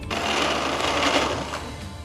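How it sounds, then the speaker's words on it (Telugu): A mixer grinder whirs continuously as it grinds soaked rice into batter, a loud, even motor drone with a rough churning texture, close and without speech. "కొద్ది కొద్దిగా నీళ్లు యాడ్ చేస్తూ పిండిని ఇలా స్మూత్గా అయ్యేట్టు రుబ్బుకోవాలి"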